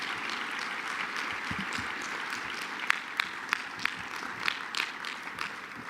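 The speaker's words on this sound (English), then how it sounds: "I would ask you to please give them, as they're leaving, one more round of applause" An audience at a national leadership forum rally on Capitol Hill gives a round of applause, a steady dense wash of clapping with a few sharper individual claps standing out near the middle.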